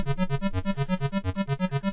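A bright synthesizer arpeggio, quick evenly pulsing notes cycling up and down in a steady rhythm, clear and alone.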